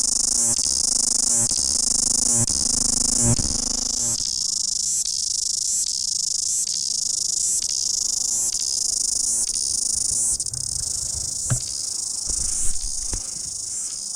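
Cicadas shrill continuously through a New Zealand bush in midsummer, a loud, steady high buzz that holds for the whole stretch, with faint rustles and a few knocks underneath.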